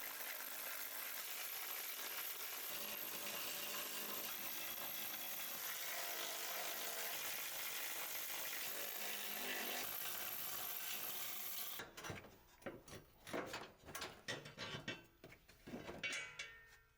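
Power tool removing the center tunnel brace on a Toyota GR Corolla, a long steady high whir for about twelve seconds, then choppy bursts and clunks of the tool and parts, no voices.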